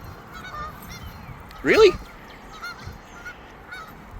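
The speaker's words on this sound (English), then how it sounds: "go get those geese" A loud goose honk bursts out once in the middle, with a few fainter honks around it and a brief spoken word.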